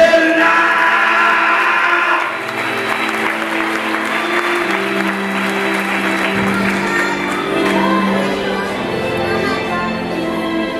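A church congregation applauds during a Spanish-language sermon. The clapping is loud and sustained for the whole stretch, a dense, even wash with steady low tones held underneath.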